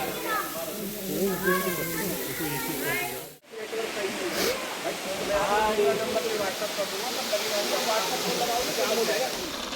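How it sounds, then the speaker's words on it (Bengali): Steady broadband rush of a waterfall in Meghalaya fills the whole clip behind close, continuous talk from a crowd of visitors, with a brief dropout partway through. "এখানে এই ঝর্ণাটা আছে"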